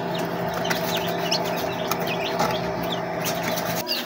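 A newly hatched chick from a homemade egg incubator peeps in short, high, repeated chirps, close and fairly loud against a steady background hum.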